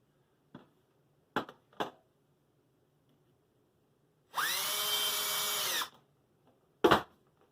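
A power drill whirs steadily for about a second and a half while drilling holes, bracketed by a few sharp clicks and knocks, close by in a quiet room.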